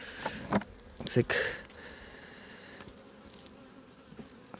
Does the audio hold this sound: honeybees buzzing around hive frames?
yes